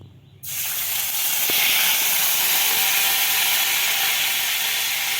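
Water poured into a hot pan of mung lentils cooked with prawns bursts into a loud, close steady sizzle and hiss that starts abruptly and holds without pause.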